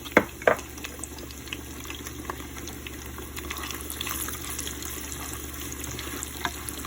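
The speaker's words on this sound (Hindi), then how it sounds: "ऑयल गर्म हो गया है। अब उसके अंदर मैं सारे अनियन डाल दूँगी।" Chopped onions hitting hot oil for a red kidney bean curry, a couple of sharp crackles at the start settling into a steady, soft sizzle that continues alone without talk.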